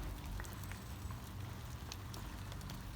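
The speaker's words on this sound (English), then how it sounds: "It's just started to rain." Light rain begins falling in a garden, a soft scattered patter of drops with a faint steady hiss underneath, close and without speech.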